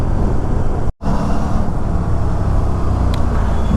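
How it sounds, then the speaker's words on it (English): Morning road traffic at High-Tech City around 8:30 a.m.: a dense, loud, continuous wash of engines and tyre noise from many vehicles nearby, with a brief cut in the sound near the start. "This is the condition of traffic at High-Tech City at 8:30 a.m."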